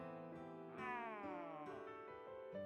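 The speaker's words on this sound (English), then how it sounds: "As soon as Red finished talking, we heard a cat." A cat meows in a drawn-out, wavering cry inside an audiobook scene, close and clear with a steady tonal backing underneath.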